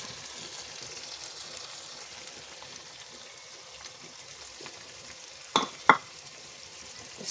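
Tomato ketchup is stirred into a chicken jalfrezi masala frying in a pan, giving a soft continuous sizzle with quiet stirring and two sharp utensil knocks near the end.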